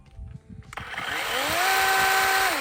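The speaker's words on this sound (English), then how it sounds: "Even got a chainsaw." A cordless battery-powered chainsaw spins up after a moment of quiet and bites into a wooden post, giving a loud, steady whine that rises in pitch and holds close by.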